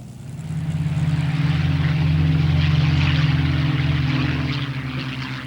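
Spitfire fighter's piston engine in flight, a steady loud propeller drone with a deep throbbing hum that swells slightly and holds throughout, no voices.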